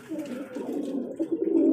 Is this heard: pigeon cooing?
yes